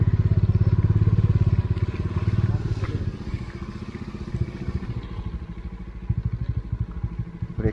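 A motorcycle engine runs steadily while riding in heavy snowfall on a mountain road, loud and close, its throb easing slightly partway through, with clattering mechanical noise and no talk.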